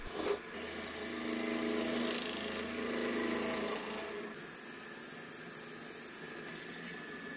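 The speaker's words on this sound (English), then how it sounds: "I'm just gonna mill some flats on the ends and then drill straight through." Steady machine whirring with a grinding, cutting tone runs throughout as flats are milled on metal tube ends, shifting pitch partway to a higher whine as the tool changes to drilling through the tube.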